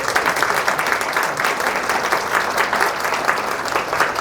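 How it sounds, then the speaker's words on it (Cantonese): A church audience applauding at a sharing talk: dense, continuous clapping from many hands, loud and steady throughout with no voices over it. "可唔可以俾啲掌聲我哋嘅神？"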